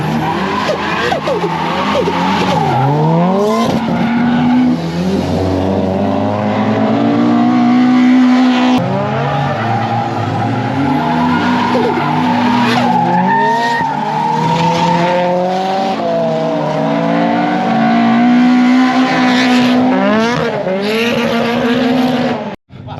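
High-powered JDM drift cars skid at Driftland in Scotland during a Dorifest event: loud, continuous engine revving with rising and falling pitch, and tires squealing close by throughout.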